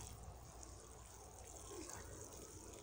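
Water poured steadily into a garden furrow to moisten the soil before sowing carrots, a soft continuous trickle heard faintly at a distance.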